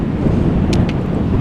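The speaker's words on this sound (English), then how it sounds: "I bet the wind sounds louder in the microphone than it is in real life" Breezy outdoor wind buffets the microphone in a continuous low rumble that stays even and fairly loud from start to finish, with no voices.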